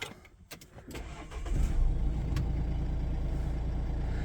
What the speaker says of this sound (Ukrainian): м'яко завівся двигун, ніяких нарікань